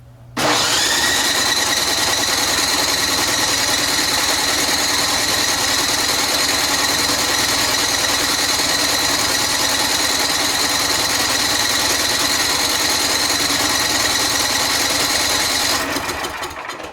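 A Poulan 27-inch snowblower with a Tecumseh 8.5HP engine runs at a steady, loud, close drone for about fifteen seconds before cutting out near the end, with no voices.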